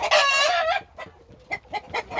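A young rooster gives a loud, strained squawk while being caught in a golden rooster pen, followed by several short, sharp clucks in quick succession.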